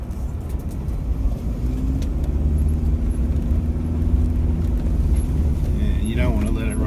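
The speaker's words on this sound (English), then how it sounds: "That's the 4-speed in the Hilux 1KD 2013. In low range first, it does run away a bit on these steep ones." A 2013 Toyota Hilux with the 1KD diesel and four-speed box creeps down a steep hill in low-range first, its engine a steady low rumble with slight rise in pitch as it runs on, under continuous talk inside the cab.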